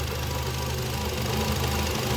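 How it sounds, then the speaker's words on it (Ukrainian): A 2011 Nissan Qashqai 1.6 petrol engine idles roughly and shakes, with a steady, close mechanical hum and an uneven knocking pulse underneath, no talking. "Щось трушить, правда, мотор."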